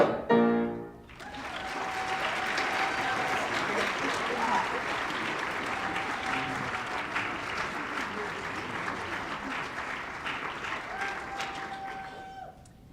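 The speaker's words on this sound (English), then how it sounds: "Let's give another round of applause for our PHHS choir" A crowd at a high school chorus concert gives the PHHS choir a sustained round of applause. A brief louder burst opens it, then dense clapping holds steady until it fades out at the end.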